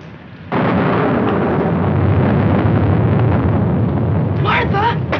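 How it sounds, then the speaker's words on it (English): Thunder rolls during a storm, a sudden loud, sustained rumbling roar that starts abruptly and fills the clip, with a faint voice or sound near the end. "I'm afraid of the thunder and lightning."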